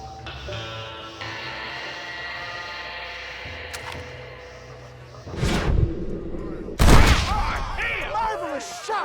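Gunshots crack in a Red Dead Redemption shootout, two loud sharp blasts rising out of background music and game ambience, with voices speaking around them.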